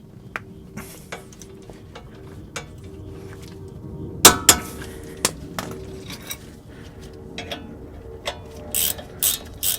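Ratchet wrench clicking on the front brake caliper bolts of a GM 1500 SUV truck, steady close ratcheting with a few sharper metallic clanks and knocks in a quiet garage.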